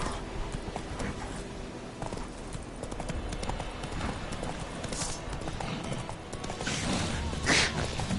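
Hooves of the horse Roach clip-clopping at a steady run in The Witcher 3, a continuous rhythmic patter over game ambience, with a brighter rustle near the end.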